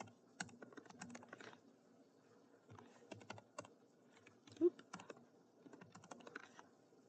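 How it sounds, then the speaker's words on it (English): Someone types on a computer keyboard, entering a person's details into a clinician management form: quiet, close, irregular bursts of key clicks with short pauses between runs and one slightly louder keystroke midway, no voices. "here, you would just type in the person's information."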